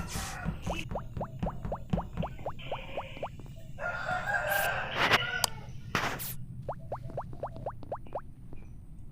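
A neighbouring rooster crows with a drawn-out cock-a-doodle-doo, set against rapid repeated clucking and clicking and a low background hum, at moderate volume.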